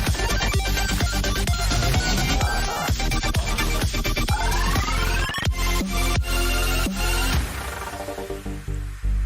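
A phone rings in the video game Cruelty Squad, a busy, loud electronic ringtone with dense repeated synth notes and rising tones, playing continuously for several seconds before fading into noise, with no talking.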